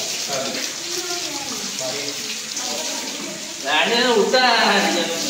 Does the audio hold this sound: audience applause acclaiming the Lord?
no